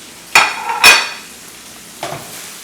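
Pad See Ew noodles being tossed in a hot pan, with two sharp scraping flips close together, a sizzle underneath, and a softer third scrape shortly after.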